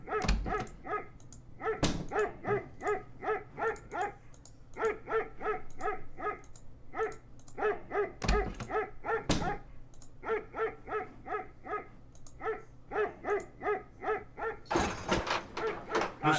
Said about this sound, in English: open up the dog's cage. Let the dog out.